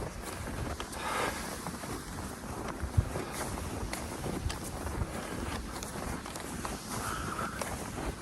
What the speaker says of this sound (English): I'm walking.